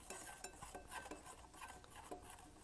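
Spoon stirring hair conditioner in a bowl while making slime, soft repeated scraping and clinking strokes, close and quiet, with no talking.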